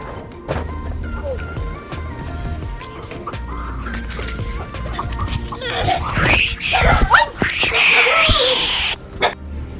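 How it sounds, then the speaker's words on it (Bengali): A captured bird calls loudly in harsh, squawking bursts that grow more frantic toward the end, mixed with handling noise and people talking nearby. "দেখ পাখিটা ধরেছে, দেখ দেখ কেমন করে"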